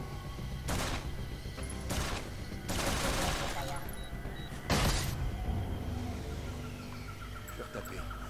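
Bursts of pistol fire in the video game Flashback HD's jungle level, several loud, close blasts spread irregularly over a steady background hum.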